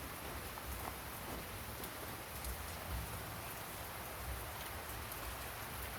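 Light drizzling rain falls steadily outdoors, a soft continuous patter of fine drops on surfaces, even and unbroken, with no voices.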